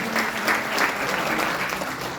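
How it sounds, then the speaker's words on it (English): Audience at a talk applauds itself, a dense, continuous wash of many hands clapping at once, steady and fairly loud for the whole stretch. "give yourself a round of applause for coming here today"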